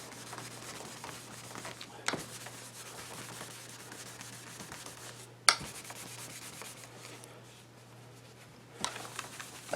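A waxed cherry wood plate is buffed with a steady rubbing, sanding-like hiss, punctuated by a few sharp knocks and handling bumps, close and without talk.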